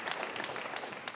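A comedy-show audience applauds, a faint patter of clapping that runs steadily through a short burst with no voices over it.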